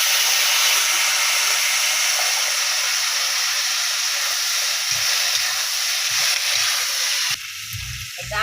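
Ginger and black cumin hit hot oil with a steady, bright sizzle that runs loud and close with no talk, then abruptly drops to a softer, lower frying crackle near the end.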